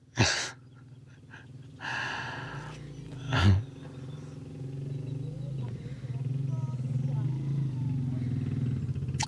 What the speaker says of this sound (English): there's a couple with a motorcycle right in front of me